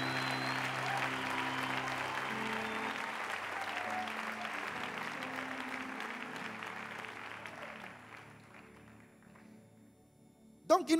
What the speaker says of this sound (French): Tu as le droit d'acclamer Jésus.